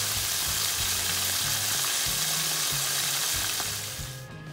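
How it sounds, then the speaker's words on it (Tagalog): Galunggong fish frying in hot oil gives a loud, dense, steady sizzle up close that fades slightly at the very end, alongside occasional low knocks. "Rituhin ko na lang to guys. Galunggong pa more."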